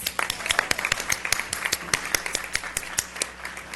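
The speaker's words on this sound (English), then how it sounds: "let's give everybody a round of applause" A small, thinned-out audience at a board of trustees work session gives scattered applause, individual claps distinct and irregular, fairly faint in a large room.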